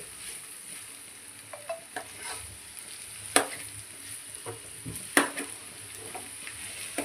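Pieces of blood frying in a pan over a medium flame, a soft steady sizzle under irregular scrapes and stirring clatters of a utensil against the pan, with a few sharper knocks.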